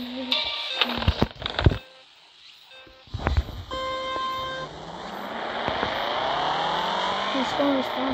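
Car engine whine and tire drift from the mobile drift-racing game FR Legends, with honk-like tones and a rising engine pitch sweeping through the latter half, loud and steady after a brief quiet gap.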